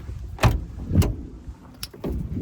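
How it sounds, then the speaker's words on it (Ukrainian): Doors on a 2011 Opel Vivaro 2.0 passenger van closing softly, a few separate muted thuds spaced about half a second to a second apart, fairly close with no talk. "Дверки прям так тихенько закриваються, мені дуже подобається."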